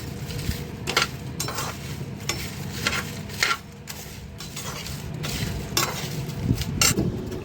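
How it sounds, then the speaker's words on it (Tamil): Whole spices dry roasting in a pan over a low flame, with a spoon steadily scraping and stirring them: light rhythmic scrapes and clinks over a soft continuous hiss. "லைட்டாக சிம்மில் வச்சு லைட்டாக ரோஸ்ட் பண்ணிக்கணும்."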